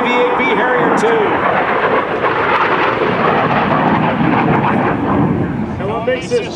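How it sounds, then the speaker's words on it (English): A US Marine Corps AV-8B Harrier II jet flies in at a military open house airshow, a loud, sustained broadband roar that swells and fills the whole clip with a steady rumble. "the aircraft inbound from the left today from Marine Corps Air Station Cherry Point, your United States Marine Corps AV-8B Harrier II"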